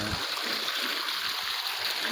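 Water gushes from a running motor pump into a turmeric field, a steady, close hiss and rush of flow that holds unbroken throughout with no voices.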